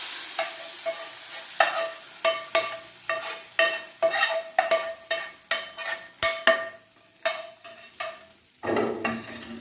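Hot oil tempering sizzles and crackles in sharp repeated bursts as it hits moong and masoor dal, close and fairly loud, with stirring clinks between bursts.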